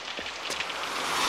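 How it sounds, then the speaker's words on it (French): Heavy rain pours steadily in a French animated cartoon, a dense, continuous hiss of falling water with a few louder splashes, close and loud with no voices. "La pluie, toujours la pluie."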